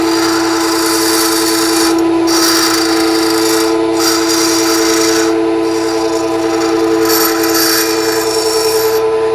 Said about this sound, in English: So let's go ahead and grind this tip.